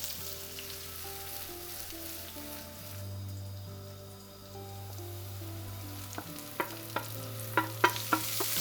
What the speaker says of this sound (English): stir fry these onions for a few minutes until they're nice and soft